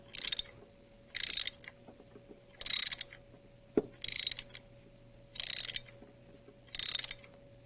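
Six evenly spaced bursts of rapid ratchet clicking from a wrench loosening the final cam gear bolt on a Rotorway 162F helicopter engine, each burst about half a second long, close and crisp, with a steady low hum behind.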